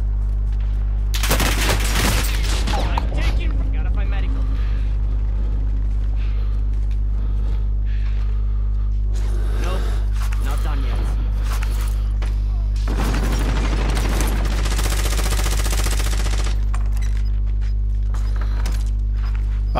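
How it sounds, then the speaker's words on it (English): Small caliber gunfire in a battle royale video game, bursts of rapid shots in two loud clusters over a constant low engine-like drone, with mechanical clicks and footsteps between. "Small caliber rounds here."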